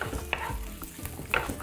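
Vegetables fry in oil in a pan on a gas stove while a utensil scrapes and stirs through them, giving irregular close clacks over a soft sizzle.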